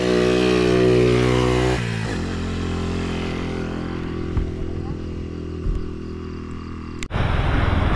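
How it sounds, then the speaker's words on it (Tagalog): Motorcycle climbing a steep uphill road near Mt. Apo Kapatagan, a loud droning engine with harmonic whine that drops in pitch as it strains, then a sharp burst of wind noise near the end. "So ayan, may motor na paahon."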